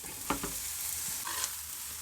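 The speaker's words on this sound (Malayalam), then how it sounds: "അപ്പോൾ വഴുതനങ്ങ ഇതിലേക്ക് ചേർത്ത് കൊടുക്കാം" Eggplant drops into a hot pan with Indian-style spices and is stirred as it fries, giving a steady close sizzle with a few sharp spatula scrapes and clinks early on and near the end.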